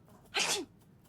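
A video game character gives a single sharp sneeze, brief and close, in an otherwise quiet background.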